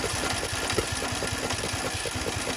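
A small engine with its spark plugs installed is cranked over for a compression test at roughly 550 to 600 RPM. It gives a steady, close, rhythmic chugging pulse throughout, with no talk.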